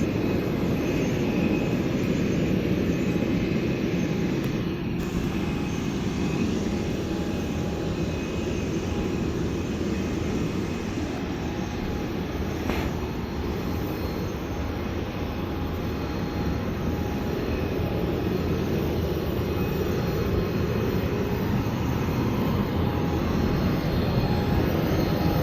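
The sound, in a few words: distant planes taking off from Charles de Gaulle airport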